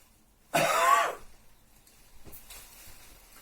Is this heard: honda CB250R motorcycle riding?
no